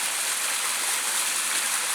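A small waterfall in Datça running low on water after rain gives a steady, hissing rush of flow, continuous and even throughout, with no voices.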